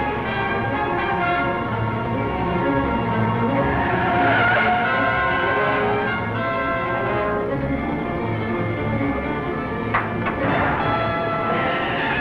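A 1940 car skids hard after losing its brake fluid, a sustained loud screech of tires with roaring engine noise throughout, swelling near the middle and flaring again toward the end.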